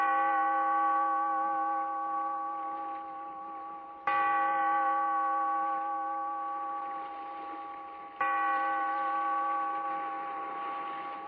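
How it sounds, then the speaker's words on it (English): Tolling bell opening an old-time radio horror show, three resonant strikes about four seconds apart, each ringing out and slowly decaying, alone without voices. "Bellkeeper, toll the bell"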